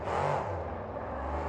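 Drag racing car roaring off the line in a wheelie launch at Lightning Nationals in Baltimore, a loud, dense engine blare with a rising then steady pitch, heard alone and close.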